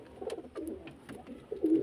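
Madrasi pigeon chicks being raised under local pigeons, with the adult birds cooing in a loft; low, rolling coos come close and repeated, with a louder burst near the end and a few brief clicks.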